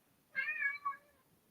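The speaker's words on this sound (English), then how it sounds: "Y'all just heard my cat." A pet cat gives a single close, clear meow that breaks into a short second note, alone against a quiet indoor background.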